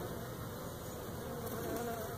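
Honeybees buzz inside a hive top feeder, a steady, dense, moderately faint drone that continues throughout with no talking.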